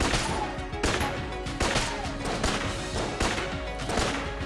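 Gunshots in the roguelike shooter Enter the Gungeon fire in a rhythmic series of sharp bursts over a busy, continuous game soundtrack, with no talking.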